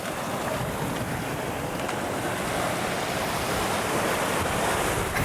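Steady, loud wash of ocean surf on a tropical beach in Kenya, a continuous broadband roar with wind buffeting the microphone and no voices over it.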